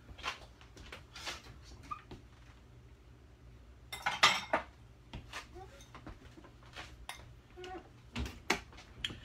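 A bowl and cutlery are handled in a quiet kitchen: scattered light clinks and taps, with one brief rattling clatter partway through, faint and close.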